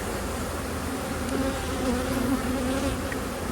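Honey bees buzzing around an opened hive, a steady, close, dense drone with overlapping wingbeat tones throughout and no talk.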